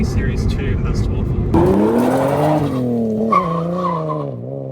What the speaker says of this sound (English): It goes sideways nicely, and it drives nicely for a fairly stock car.